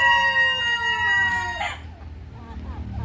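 A rooster crows loudly in a backyard chicken coop on former dump ground, a long rising call that breaks off midway, followed by softer clucking and rustling from the native chickens nearby.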